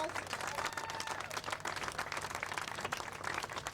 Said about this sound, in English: Let's give the sister a big round of applause.